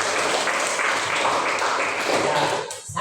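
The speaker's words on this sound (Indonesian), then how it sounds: "tepuk tangan buat kita" A crowd applauding steadily for nearly three seconds after a presentation at an education event in Southeast Maluku, Indonesia, dense clapping that fades briefly near the end.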